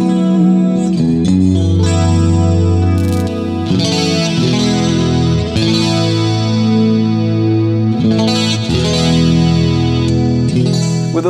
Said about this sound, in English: With those two single coils together, it almost sounds like a piezo type of pickup, but it's actually just passive single coils.